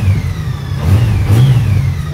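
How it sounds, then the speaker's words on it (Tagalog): A Honda Valkyrie six-cylinder motorcycle engine hums and revs close by, with a steady low drone that swells briefly in a couple of throttle blips. "Ano yung tunog ng Goldwing?"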